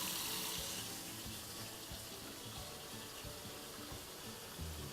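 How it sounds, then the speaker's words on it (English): Tap water runs steadily into a kitchen sink during a leak test of a newly installed garbage disposal, a continuous close hiss and splash with no talk. "Running water here at the top, seeing if there's anything leaking."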